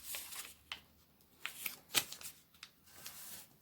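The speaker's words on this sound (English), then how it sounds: "because these envelopes are too wide for the container, we're just going to take this and we're going to fold it in" A paper cash envelope being folded and creased, quiet crinkles and sharp papery snaps in short bursts close up.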